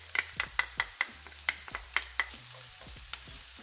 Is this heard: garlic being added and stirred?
yes